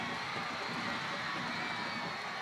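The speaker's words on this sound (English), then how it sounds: "There's a loud cheer from the Eastview sideline." A crowd on the Eastview sideline cheers at a high school football game between the East View Patriots and the Canyon Cougars, a steady, dense roar of voices that lasts the whole stretch without a break.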